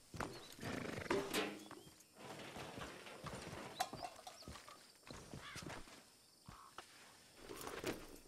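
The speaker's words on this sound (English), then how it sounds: "I jumped on my horse." Horse hooves clop and gallop in Red Dead Redemption 2, rapid and uneven across the ground. The sound is fairly quiet and steady, with occasional louder thuds.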